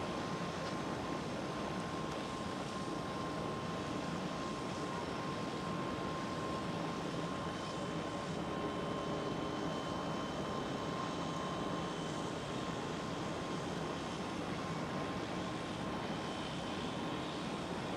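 KLM Airbus A321neo taxiing at Schiphol Amsterdam, a steady, moderately distant engine hum with a faint constant whine, unbroken throughout.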